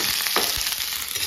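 Onions sizzle and fry in a hot pan for an Assamese pork curry, a steady close crackle with brief stirring scrapes and no voices.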